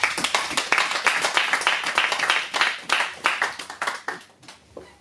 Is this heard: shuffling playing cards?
no